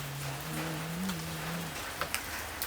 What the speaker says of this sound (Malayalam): മഴ പെയ്യുന്നുണ്ട്, മഴ പെയ്യുന്നുണ്ട് കേട്ടോ.